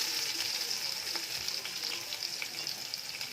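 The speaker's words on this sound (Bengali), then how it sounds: "জিরেটা গরম হয়ে গেছে, এবার আমি অল্প করে একটু পেঁয়াজ দিয়ে দিলাম।" Onion fries with cumin seeds in hot oil, a steady, fairly quiet hiss and crackle that holds throughout, with faint stirring ticks and no talking.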